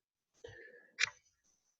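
A voice imitates a choking gurgle: a strained, throaty rattle followed by a sharp cough-like burst, then silence.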